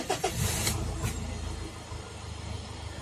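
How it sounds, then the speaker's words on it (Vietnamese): A 2015 Mitsubishi Triton pickup with an automatic gearbox and diesel engine cranks and fires, with a few sharp clicks at the start, then settles into a steady close idle rumble. "Đây em nổ máy lên cho anh chị em xem."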